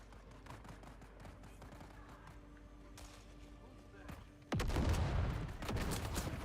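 Dart-firing guns in the video game Dune Awakening let loose a sudden loud, rapid volley that keeps rattling on after a stretch of quieter background game noise.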